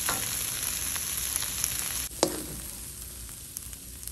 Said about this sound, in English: Continue to stir fry, and if you like it a little bit charred like I do, just lay it out all flat and let it sit there and cook for a little bit.